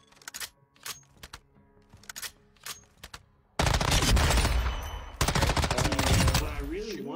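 Bursts of automatic gunfire from a new gun in DMZ mode of Warzone 2.0, first a few short spaced volleys, then dense sustained rapid fire, loud and close.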